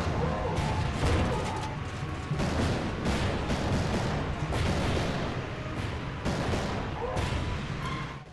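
Repeated gunfire and explosions from shooting bomb carriers above tanks on a bridge in the PlayStation Move game The Shoot, with dense bursts recurring every second or so under a steady loud rumble.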